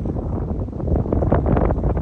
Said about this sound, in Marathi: डोंगरावर कधी पण जाम गार वारा असतो.